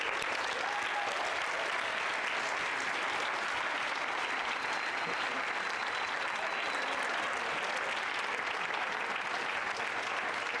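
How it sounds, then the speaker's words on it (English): An audience at the German Chiropractic Congress 2024 gives sustained, dense applause, a steady even wash of many hands clapping throughout with no talk over it. "how about we give them all a big round of applause?"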